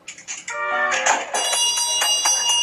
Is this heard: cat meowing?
no